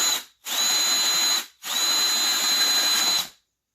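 A power drill whirs steadily in two long bursts, separated by a brief pause, loud and close with a high whining pitch.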